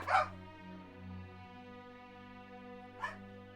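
Dogs in Project Triangle Strategy, a Switch game, give two short barks, one at the start and a softer one near the end, over sustained tonal background music.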